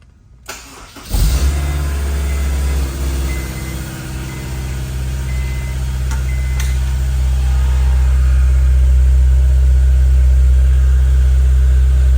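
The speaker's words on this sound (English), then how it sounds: "I'm going to use our old resonator tube so I can press the clutch and start the car standing up." A Honda S2000 fitted with a resonator tube on its exhaust cranks and fires up close by, then settles into a deep, steady idle with a strong low drone that slowly grows louder over several seconds.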